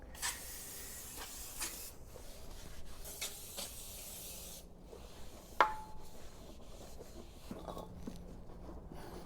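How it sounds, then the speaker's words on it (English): Quick hissing bursts from an aerosol can of brake cleaner sprayed on brake rotors, several short sprays followed by a longer one, close by, with a faint clink in between. "we spray it off with some brake clean"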